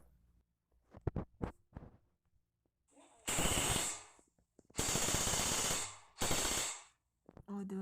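A machine gun sound effect fires in three loud, sustained bursts of rapid gunfire, preceded by a few scattered sharp clicks and short bangs, with brief silences between the bursts.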